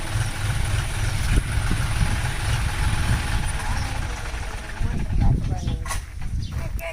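A tractor engine idles steadily at close range on a farm plot, a continuous low rumble running throughout with some wind noise and faint voices in the background.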